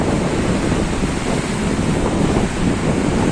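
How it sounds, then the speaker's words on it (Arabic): Sea waves wash against the shore below Qaitbay Citadel in Alexandria at sunset, a continuous close roar of surf mixed with heavy wind buffeting the microphone, with no voices. "تحت كده البحر جميل جدا."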